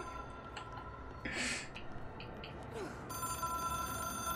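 A telephone rings faintly in a quiet room, with a short burst of noise partway through and a steady electronic tone near the end.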